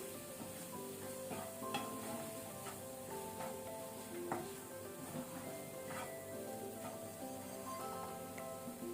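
Coriander powder, turmeric and chilli powder frying in a pan, a soft, continuous sizzle with light clicks and taps of a spoon stirring the spices, faint and close, without talk.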